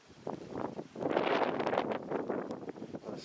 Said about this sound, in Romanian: bătea vântul foarte tare.